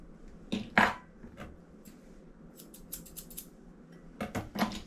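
Scissors snip at a small dog's tail fur during grooming, a few crisp close cuts in short clusters separated by quiet pauses, with light handling noise between.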